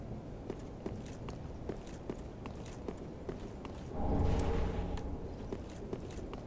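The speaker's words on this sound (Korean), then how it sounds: "내 발소리밖에 안 나." The player character's footsteps in the PC game Dark Souls 3 tread in a quiet, even rhythm of soft thuds, with a brief low rumble swelling partway through.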